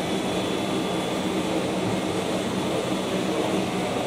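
Safflower oil press machines run steadily, fed by an auger, giving a continuous loud broadband mechanical roar and hum with no pauses and no voices.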